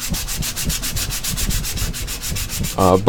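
A hand file rasps back and forth across a glass construct model in quick, even strokes. The strokes are close and steady, and a brief tonal squeak comes at the end.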